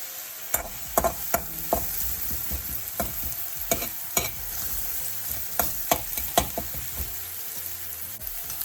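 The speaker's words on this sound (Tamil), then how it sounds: "கடுகு பொரிஞ்சது பெருக்கி விடுவோம்" Mustard seeds fry in sesame oil in a pan, giving off a continuous sizzle dotted with scattered sharp pops and crackles, plus occasional stirring scrapes, heard close with no voices.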